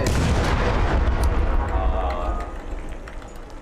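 Sustained gunfire from a Deadline weapon in a PvP video game, loud, dense and continuous for most of the span with booming reports, then easing toward the end.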